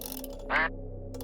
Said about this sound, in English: We can just keep making duck sounds though